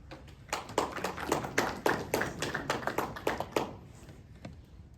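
Applause at an Elko Area Chamber primary candidate forum: a small audience claps in distinct, fairly sparse bursts that grow denser, then thin out and fade after a few seconds.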